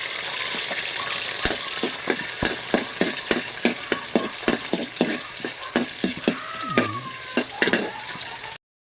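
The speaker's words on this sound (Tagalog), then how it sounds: "So magigisa na ngayon tayo mga batang." Onion and garlic sautéing in a pan over a fire, a loud continuous sizzle with regular spoon scrapes and taps in a steady rhythm, no speech.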